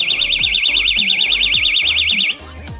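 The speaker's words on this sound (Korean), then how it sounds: "첫번째는 호신용 경보기입니다. 자, 이 고리를 당기면 소리가 납니다." A handheld personal safety alarm, set off by pulling its ring, wails with a loud, rapidly warbling siren tone that runs steadily for over two seconds and then cuts off. Rhythmic background thumps sound underneath.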